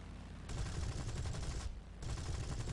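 Aircraft gunfire from a Boomerang Mk I fighter in War Thunder: rapid, dense bursts of automatic fire over a low rumble, with a brief pause between two firing bursts.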